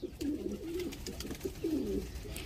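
A high flyer pigeon held in a hand coos softly in two short throaty phrases, close and quiet, with no talking.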